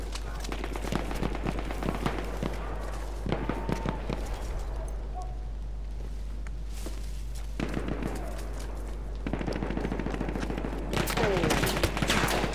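Gunfire in a Battlefield 1 deathmatch on the Amiens map comes in scattered rifle shots and rapid automatic bursts, near and distant, over a constant low hum, with players talking at times.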